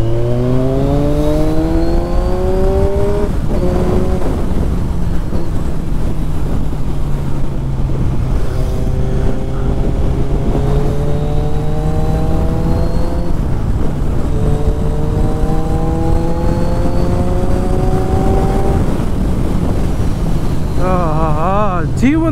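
A Kawasaki Ninja 1000 four-cylinder motorcycle engine revs while riding, climbing in pitch again and again through repeated rising sweeps, steady and close over rushing wind noise.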